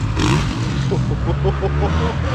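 Dirt bike motorcycles ride a motocross track, engines revving and shifting pitch in loud, close bursts that rise and fall, with a voice speaking faintly over the noise.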